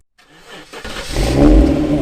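A classic Jaguar XJS convertible engine starts up and revs, rising from a faint catch to a loud, steady throaty roar close by, with no talk over it.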